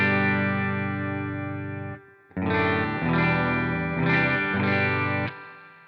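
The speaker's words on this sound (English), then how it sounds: "you can hear there's a bit of a reverb in there" Sustained electric guitar chords through an amp, ringing out, then a series of strummed chords with a soft reverb tail, loud and close.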